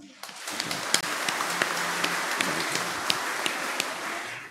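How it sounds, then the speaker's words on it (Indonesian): A church congregation at Maundy Thursday mass claps together, a dense patter of hands with a few sharper individual claps standing out, moderately loud and continuous, with faint voices mixed underneath. "kita tepuk tangan untuk kita semua"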